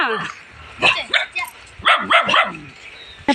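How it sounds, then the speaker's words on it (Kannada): A dog gives several short yapping barks in quick bursts, fairly close, with a few whiny yelps mixed in and a final bark at the end. "ಶ್ರೀಶಾಲ ನಾಯಿ ಹುಡ್ಕೋ"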